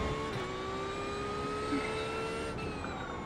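A sim racing car's engine drones loudly and evenly, its pitch climbing smoothly as the throttle is fed in, with no voices heard.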